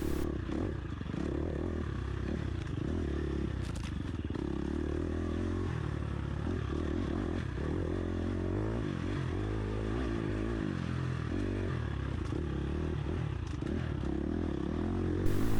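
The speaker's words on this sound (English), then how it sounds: "one of my favorite sections of the track, just wide open on my KTM 350" A KTM 350 dirt bike is held wide open on a sprint enduro track. The engine drones loud and close, without a break, with clatter and scraping from the terrain.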